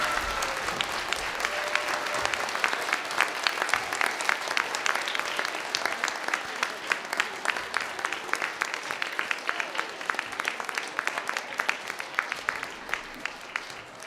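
An audience at a 2014 candidate forum held at Williston Central School stands and applauds in a steady, sustained round of clapping. It stays dense and even for the whole stretch, with no talk over it.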